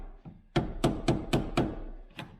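A wooden hammer handle taps a soft lead battery post, giving five quick dull knocks in a row, a softer one after a brief pause, and fainter taps before them, close by with no talking.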